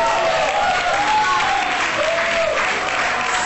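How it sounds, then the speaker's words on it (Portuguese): Studio audience applause on a late-night Portuguese talk show, a dense, even burst of clapping from the crowd lasting the whole clip, with a faint tonal sound running beneath it. "é uma salva de palmas!"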